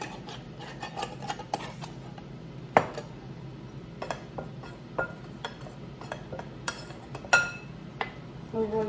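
A spoon stirs garlic powder and chilli powder together in a bowl for a fish-and-chips batter. Quiet scraping is broken by irregular sharp clinks of metal against the bowl.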